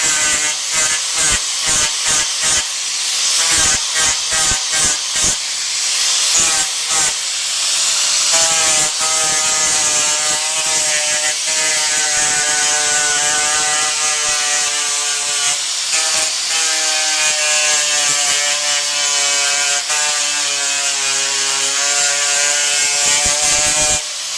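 Old plastic extrudate being ground off the end of a split boot, starting with a quick run of rapid rasping strokes, then a continuous loud whining grind with a shifting pitch, close and without speech.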